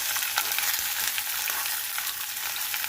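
Sweet pumpkin pieces fry with green chilli and nigella seeds in a pan, a dense, even crackling sizzle heard up close and unbroken, dotted with small pops and light stirring, with no talking.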